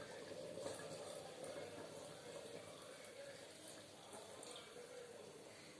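Washing water from rinsed ingredients is poured into a cooking pot, giving a faint, steady splashing gush that runs evenly for several seconds without pause, with no talking over it.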